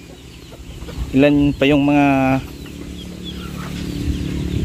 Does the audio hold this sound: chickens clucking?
yes